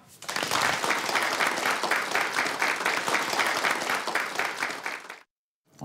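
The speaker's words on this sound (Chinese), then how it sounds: "我们鼓掌热烈欢迎" Audience applause welcoming a speaker to the front, a dense, steady burst of many hands clapping that holds for about five seconds and then cuts off abruptly into silence.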